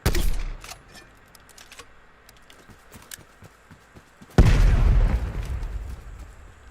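A loud spawn-tube shot and explosion in Black Ops Cold War on the Satellite map: a sharp burst at the start, sparse small pops, then a big booming blast that rumbles and fades.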